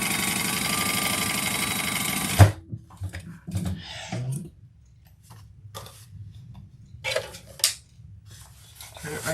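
Domestic sewing machine stitching along the top seam of a folded slip pocket for a fabric bag, a steady mechanical whir for the first couple of seconds, then stopping, followed by quiet handling clicks and rustles.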